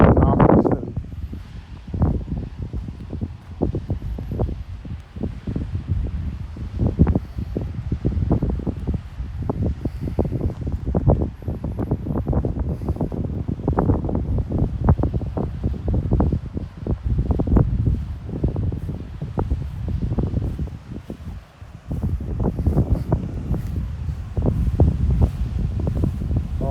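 Breeze blowing across the high cliffs at Ragged Point by the lighthouse in St. Philip, Barbados, a steady rough wind buffeting the microphone with gusty low rumbles throughout, under occasional talk.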